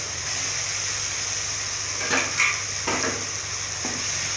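Bitter gourd frying and being stirred with softened tomato in a pan: a steady sizzle with a few louder stirring scrapes partway through, close and alone.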